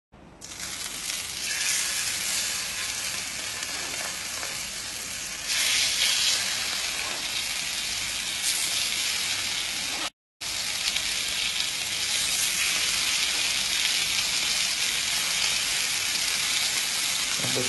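Chicken breasts frying in an oiled pan, a loud steady crackling sizzle like rain that runs continuously, briefly swells, cuts out for a moment, then resumes at full strength.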